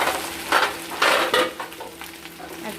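Rohu fish pieces fry in hot oil, a steady sizzle with a few louder scraping, stirring bursts as the pieces are moved in the pan; no talking.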